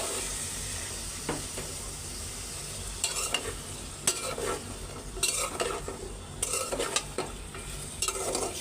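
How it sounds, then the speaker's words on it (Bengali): Washed vegetables go into a spice paste of turmeric, ginger-garlic, chili and salt frying in a pan, giving a constant low sizzle broken by repeated scraping stirs of a spoon against the pan. "তো এই যে ধোয়া সবজিগুলি এখন দিয়ে দেই।"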